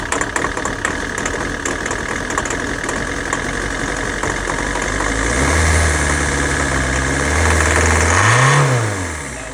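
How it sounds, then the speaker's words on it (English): A Citroen C5 engine idles roughly with a steady rattling knock, then revs up and down a couple of times toward the end, loud and close. "you can see kind of the engine rattling"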